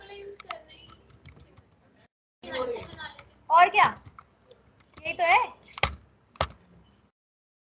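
Computer keyboard typing during a Hindi TallyPrime accounting lesson, with scattered clicky keystrokes in short bursts between and under a man's nearby speech.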